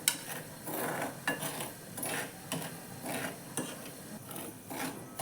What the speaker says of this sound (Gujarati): તો અત્યારે આપણે થોડું મીઠું પહેલાં શેકી લઈએ ચણા એડ કરતાં પહેલાં